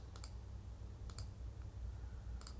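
A computer mouse clicks in Cricut Design Space, three quiet, evenly spaced double clicks over a low background hum.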